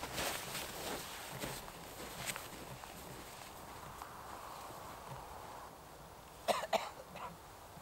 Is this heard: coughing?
yes